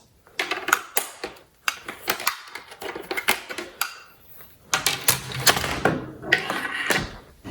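Clicky typing on a partially broken keyboard of an old iMac G5 comes in irregular bursts of sharp key taps, close and fairly loud, with short pauses between runs.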